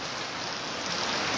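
Heavy, steady rain pours down in Gol subdivision, with streams and drains running high, a dense broadband hiss that holds even and close throughout with no voices.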